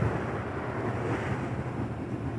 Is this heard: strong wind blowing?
yes